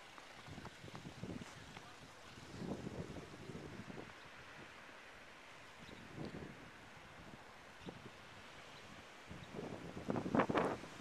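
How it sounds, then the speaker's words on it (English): Blizzard wind blows snow around the end of a driveway in February, a faint, low, gusty rumble that swells and fades several times and grows strongest near the end. "Wind's still blowing it."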